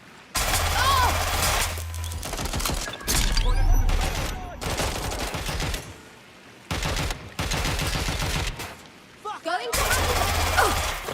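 Gunfire in the Watch Dogs Legion video game: repeated loud bursts of automatic fire broken by short pauses, with shouting voices mixed in between volleys.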